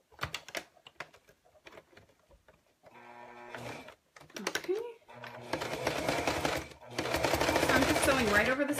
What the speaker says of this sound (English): Sewing right over the seam I've already created when I put the outside piece on this side of the zipper.